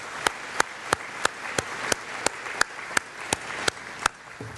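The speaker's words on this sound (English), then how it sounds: "So if you could give them all a round of applause for their help with the Chamber." An audience at a regional chamber of commerce annual meeting claps in sparse, evenly spaced single claps rather than a full ovation, moderately loud and with no talk over it.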